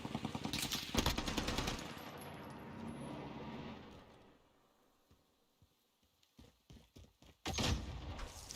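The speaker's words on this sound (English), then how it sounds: "Someone's shooting me." Gunfire in a first-person shooter video game comes as rapid bursts of shots, loud at the start, then a quiet lull with a few scattered faint pops, before another sharp burst near the end.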